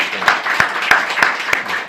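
A church congregation at a Sunday service claps for its accompanists in evenly spaced beats, and a voice talks over the clapping.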